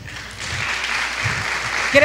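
A conference audience applauds steadily for a couple of seconds, a soft, even wash of clapping with a brief louder swell at the very end.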